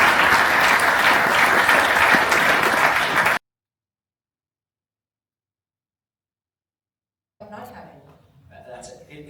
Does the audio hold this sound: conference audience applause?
yes